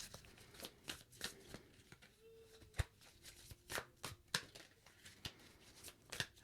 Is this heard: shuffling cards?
yes